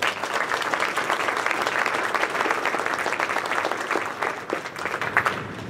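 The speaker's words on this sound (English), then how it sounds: "I would like us to show our appreciation by giving them a round of applause." Warm applause from an audience at a nursing reunion honoring international nursing graduates, a dense, continuous patter of clapping that holds steady for several seconds.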